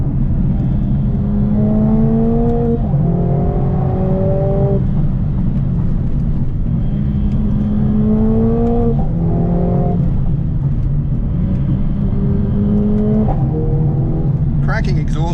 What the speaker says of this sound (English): Cracking exhaust note as well.